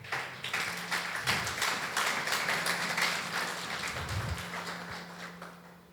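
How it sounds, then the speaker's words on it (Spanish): Church congregation applauding continuously during a Spanish-language worship service, a dense crackle of many hands that swells and fades slightly, with a sustained musical tone humming underneath. "Dele un aplauso al Todopoderoso."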